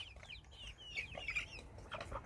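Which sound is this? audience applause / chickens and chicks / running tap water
chickens and chicks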